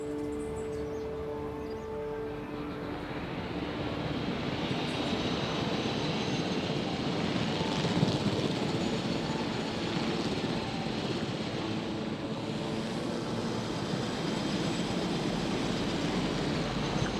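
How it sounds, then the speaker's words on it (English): A helicopter in the dinosaur park game Jurassic World Evolution: a dense rotor and engine drone that swells after a few seconds, then holds as a loud, continuous roar with no speech. "Can we fly this helicopter?"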